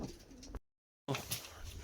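Large pigeons kept in a cage coo in low, soft murmurs, fairly faint and close, broken by a short silent gap before the cooing resumes.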